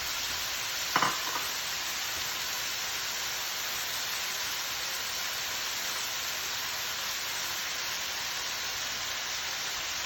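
Green chilies frying for a spicy venison stir fry, giving a steady, even sizzle that runs the whole time, with one short clatter of stirring near the start.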